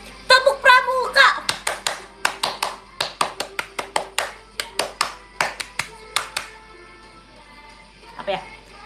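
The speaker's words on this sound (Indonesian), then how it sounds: "Tepuk pramuka" A group performs the Indonesian scout clap routine in a livestream showroom: a quick flurry of claps, then a long series of sharp, evenly spaced single claps in a set rhythm, close and crisp, with a voice briefly at the end.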